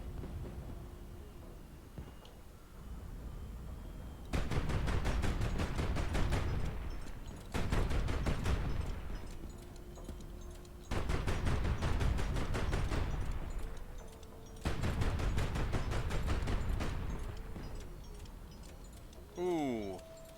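A missile strike in the naval strategy game High Fleet sets off explosions and ammunition blasts, heard as three or four loud, booming bursts of crackling gunfire-like detonations separated by quieter gaps, ending with a brief rising electronic tone.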